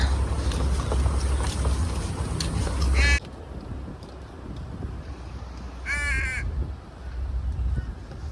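A large bird calls in a park in Australia: two harsh, crow-like caws ring out a few seconds apart, fairly close and clear above a steady outdoor background hum.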